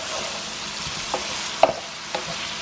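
Lemon juice being stirred into food in a pan, a steady background sizzle with a few soft, brief utensil scrapes and clinks spaced about half a second apart, close and fairly quiet.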